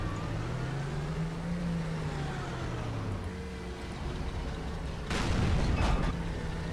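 An M103 tank fires its gun in a video game, a single heavy booming blast arriving late over a steady droning engine rumble.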